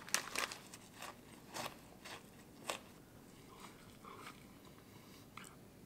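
Oreo cookies being eaten close to the mic, a few sharp crunchy bites followed by softer chewing and crumbly crackles, quiet and intermittent with no talking.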